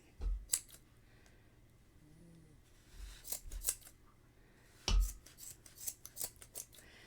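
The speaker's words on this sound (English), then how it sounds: "my scissors are kind of not wanting to do it, but they will" Quiet, crisp snips of scissors cutting through crocheted yarn loops, a few scattered clicks with pauses between, close up and alone.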